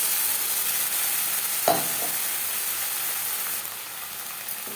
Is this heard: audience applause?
no